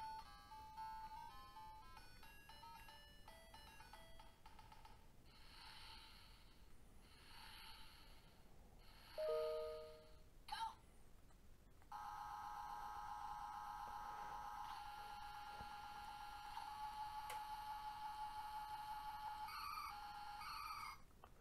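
Car racing game on a Game & Watch mini handheld console, with thin electronic beeps and buzzing tones in short bursts, then a sustained higher synthetic drone with small blips, faint and alone.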